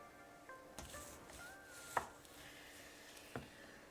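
A knife cuts through smoked venison summer sausage on a board, producing a few soft, quiet chopping taps spaced apart in a calm room.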